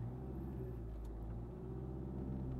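Car engine idling low and steady during a driving lesson start in first gear, a continuous close rumble with mild revving swells and no talk over it.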